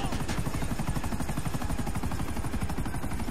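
A helicopter in GTA chops loudly and steadily at close range, its rapid rotor thumping filling the whole stretch without pause.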